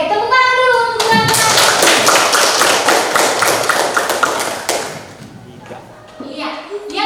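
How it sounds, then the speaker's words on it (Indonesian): A burst of group clapping from many hands in a classroom, loud and dense, lasting several seconds before fading, with children's voices around it. "tepuk tangan dulu untuk surat"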